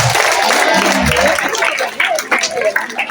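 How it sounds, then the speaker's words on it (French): Applause from an audience at a school awards ceremony, a brief burst of clapping mixed with crowd noise and some voices, fairly loud and close, tapering into scattered claps by the end. "Est-ce qu'on peut les applaudir encore une fois de plus?"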